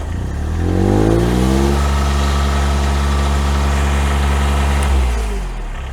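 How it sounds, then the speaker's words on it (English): A diesel-powered machine starts after its glow plugs warm, the engine catching with a rising rumble, settling into a loud, steady close idle, then easing down slightly near the end, with no talking. "So we're going to start the machine and we'll get it going."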